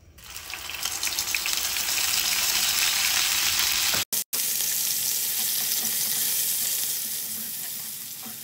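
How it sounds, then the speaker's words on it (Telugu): Onion and chilli paste fries in a pan over medium flame, a loud, continuous close sizzle that swells early, drops out for a moment, then carries on and slowly fades, with no speech. "పచ్చివాసన పోయేంత వరకు కూడా ఈ పేస్ట్ని వేయించుకున్నాము"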